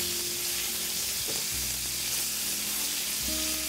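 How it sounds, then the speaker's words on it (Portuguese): Rabbit meat searing in a pot on a home stove, a steady close sizzle of frying with faint low hums and a brief clink partway through. "Por que que eu tô selando o coelho,"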